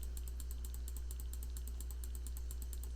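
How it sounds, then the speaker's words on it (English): Rapid, steady mouse clicks while playing Cookie Clicker, a fast even rhythm of small sharp taps over a low constant hum, close and fairly quiet throughout. "I don't know if you guys can hear my clicking"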